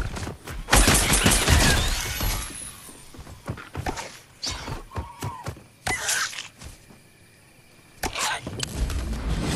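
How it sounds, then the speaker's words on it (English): Gunfire in the Fortnite video game: a dense burst of rapid shots early on, then scattered single and clustered shots at varying distance, with movement and game effects between volleys. "This kid's shooting at me."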